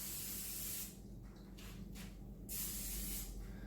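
Cooking spray hisses onto a small loaf pan in a home kitchen for banana bread, two or three close, sustained bursts separated by short pauses.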